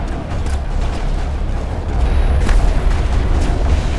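Deep, rumbling explosions from enemy rocket launchers in the Mass Effect video game, booming repeatedly and heavily through continuous low-pitched battle noise.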